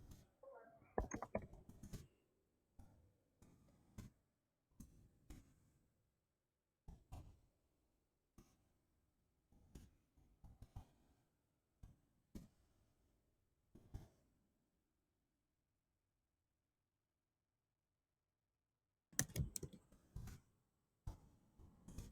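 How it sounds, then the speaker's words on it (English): Computer keyboard typing, faint scattered clicks and short bursts of keystrokes in a quiet room, with one long silent pause before a final flurry of taps. "I'm typing."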